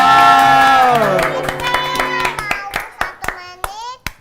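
Children and adults clap their hands in a short burst of sharp, uneven claps that follow a voice speaking, growing sparser toward the end.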